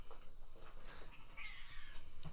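A cat meows softly in a few faint cries against quiet background noise.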